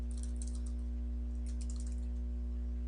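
Keys clatter in quick bursts on a computer keyboard while a description is typed, with a short pause mid-way, close and fairly quiet over a steady low electrical hum.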